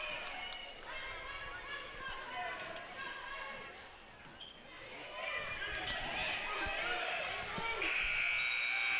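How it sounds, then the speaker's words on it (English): At a basketball game involving New Haven, a bright sustained buzzer sounds near the end, after ball bounces and crowd noise, while a commentator talks throughout. "There's the buzzer."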